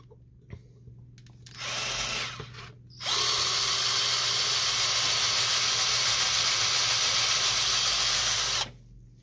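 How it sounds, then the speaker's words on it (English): A power drill bores a hole through a Canon ink cartridge, starting with a short burst and then running in a long, steady, close whine that cuts off abruptly. "It goes over this hole right here, so we're just gonna drill right through it."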